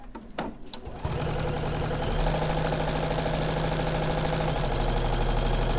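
Sewing machine stitching a foundation paper pieced quilt block starts with a few clicks, then runs in a fast, steady mechanical whirr with a droning motor hum, close and continuous, alone without talk.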